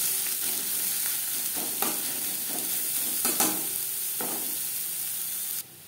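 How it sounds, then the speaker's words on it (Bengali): Chopped onions fry in a pan with a steady close sizzle, punctuated by several scraping stirs, and the hiss cuts off abruptly just before the end. "পেঁয়াজ লালচে করে ভেজে নেব"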